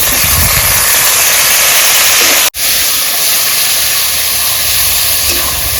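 Tomatoes sizzle in a pan of Bengali crab curry with bay leaf, whole cumin and dried chillies, giving a loud, steady hiss that fills the whole clip. There is one abrupt momentary dropout partway through.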